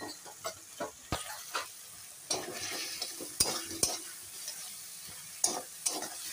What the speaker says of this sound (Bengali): দেওয়ার পর ভালো করে এখন সুন্দর করে নেড়ে নিচ্ছি।